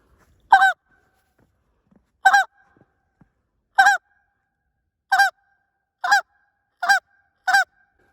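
Short-reed Canada goose call blown alone in seven crisp, evenly spaced honking bursts, each a quick two-note break, loud and close with silence between.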